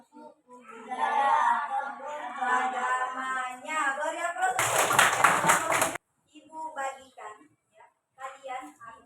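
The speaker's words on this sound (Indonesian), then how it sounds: "Beri aplaus untuk kelompok 7." A group in a classroom teaching-assessment session gives group 7 a short, dense burst of clapping lasting just over a second, framed by a person speaking before and after it.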